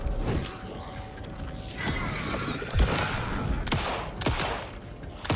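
Gunfire from Alan Wake 2's combat, sharp broadband cracks landing at irregular moments over a mechanical clatter and creaking, fairly close and loud with no voices.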